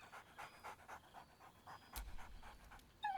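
A dog panting in Baldur's Gate 3: quick, rhythmic, breathy huffs repeat steadily and close up, with a sharper burst near the end.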